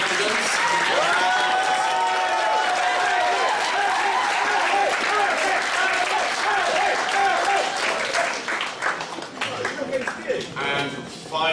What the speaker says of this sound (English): Big round of applause for all the candidates.